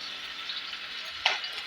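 Fish shallow frying in a little oil in a pan gives a soft, steady sizzle with a brief louder crackle near the end, heard alone without talk.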